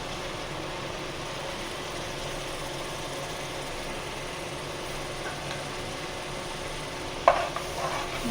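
Garlic and ginger being sautéed in a pan for biryani, making a steady, even sizzling hiss with one brief clink near the end.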